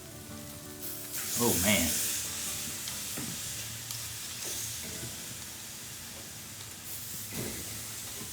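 Marinated pork chops, coated in a heavy Asian marinade, sizzle and hiss loudly on a hot grill as they are flipped, with a bright frying crackle that swells around each turn and a brief exclamation from a voice.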